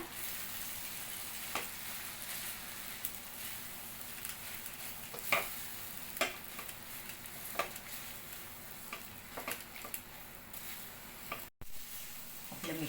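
A corn paratha filling is being mixed with amchur powder and coriander in a pan, giving soft continuous stirring and scraping with occasional sharper clicks of the spoon, with no talking.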